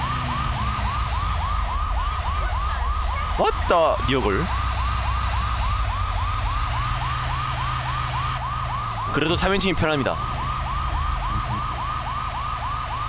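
Fire truck siren in GTA V, a loud cycling wail pulsing steadily throughout, with engine rumble underneath and someone talking over it in short bursts.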